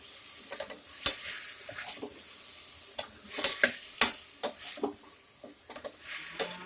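Tomatoes being sautéed in a pan for tomato rice, with irregular clicks and scrapes of a spatula against the pan over a faint background sizzle.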